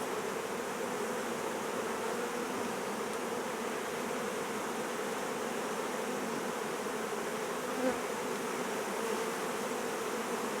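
Honey bees buzzing at an opened hive during brood removal, a dense continuous hum close by and steady throughout.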